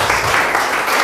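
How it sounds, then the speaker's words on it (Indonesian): A church congregation in a hotel hall applauds and cheers loudly, dense continuous clapping mixed with shouts through the whole short burst. "Berikan sorak-sorai buat Tuhan."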